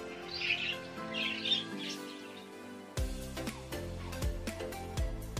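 Pet male budgerigar squawking and chirping close by in repeated harsh calls, with a steady tonal hum underneath throughout.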